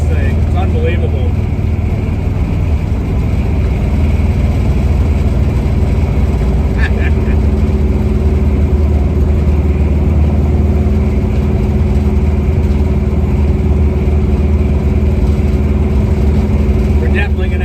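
A 1970 Chevrolet Nova with a 383 stroker V8 and Ride Tech and DSE suspension being driven, heard as a steady, loud engine drone with low rumble throughout, with no pauses or revving peaks.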